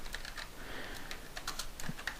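Keys clatter on a computer keyboard hooked up to an Akai S5000 sampler, a quick irregular run of light, close clicks and taps with no voice over them.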